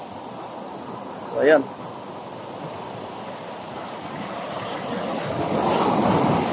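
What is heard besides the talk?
strong waves on the shoreline after a typhoon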